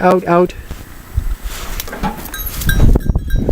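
A curious goat near a garbage bin gives a short, close bleat at the start, followed by a person talking, footsteps and clattering handling noises.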